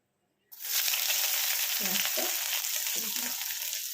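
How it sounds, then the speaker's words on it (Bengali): Chopped onion frying in a spoonful of oil and ghee, a sudden loud sizzle that bursts in after near silence and stays dense and steady, broken by a few soft stirring scrapes. "পেঁয়াজটা একটু ভালো করে ভেজে নেব"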